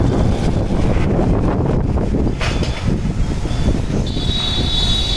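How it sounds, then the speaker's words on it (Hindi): Strong, steady wind buffets the microphone as a storm approaches outdoors, a loud continuous roar with gusty swells and no speech over it. "बहुत तेज हवा चल रही है अभी"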